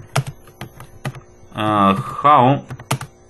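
Computer keyboard typing while entering C++ code: scattered, crisp keystrokes at an uneven pace, interrupted by someone speaking briefly in the middle.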